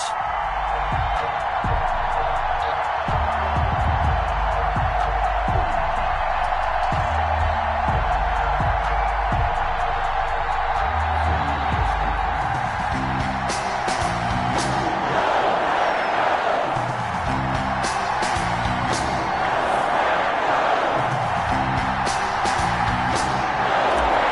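A stadium crowd roars at a Packers vs Lions NFL game, with a dense, continuous wash of cheering and noise throughout and no clear breaks.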